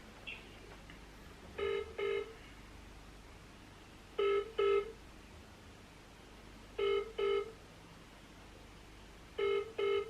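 A phone line rings out through a handset: four pairs of double ring tones spaced evenly, a couple of seconds apart, with quiet line hiss between them and no talking.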